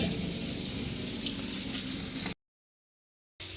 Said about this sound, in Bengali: পটল ভাজতে বসিয়েছি।